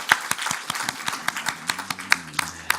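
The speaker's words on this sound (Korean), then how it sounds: "크게 한 박수 합시다" A church congregation gives a round of applause to welcome a new member, the sharp claps coming in a clear, fairly regular rhythm with a soft voice murmuring beneath.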